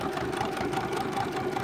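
A computerised sewing machine stitches a buttonhole with a steady, close mechanical whir and fast needle chatter that continues evenly throughout without pause.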